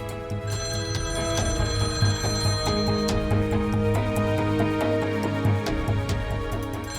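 A telephone rings on and on in a domestic drama scene, its bright repeating bell tone sustained over a low steady background hum with no one speaking.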